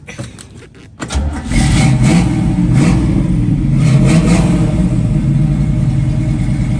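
A 1967 Chevrolet Camaro with dual exhaust cranks briefly, catches about a second in, and settles into a loud, throaty, close-up rumble with several blips of revving and no talk.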